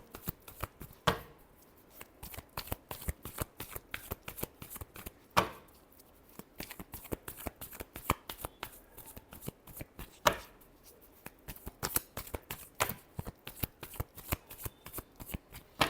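Tarot cards shuffled by hand, a steady rapid crackle of riffling card edges with a few louder slaps, close and continuous throughout, no voices.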